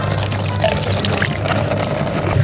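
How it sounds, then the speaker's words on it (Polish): Water pours from a pump tube in a steady, unbroken splashing rush, close and fairly loud, lasting the whole moment without any voices. "Plan jest taki, że zagnę rurkę, żeby jak najmniej wody leciało."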